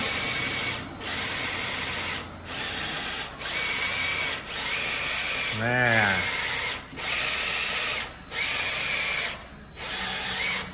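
A cordless drill whirs in repeated short bursts with brief pauses between, close by in a shop during a truck suspension install, with a rising whine in the middle and a brief spoken word.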